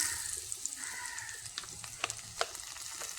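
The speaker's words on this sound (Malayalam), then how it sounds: "ഏത്തപ്പഴം ചെറുതായിട്ട് അരിഞ്ഞത് ഇട്ട് കൊടുക്കാം" Chopped ripe plantain sizzles in a frying pan, a close, steady hiss of hot oil broken by a few crisp pops and crackles.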